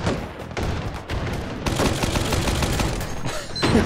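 Rapid bursts of gunfire and explosive booms fill a shooting match in the VR game Hot Dogs, Horseshoes & Hand Grenades, dense and continuous with loud cracks throughout.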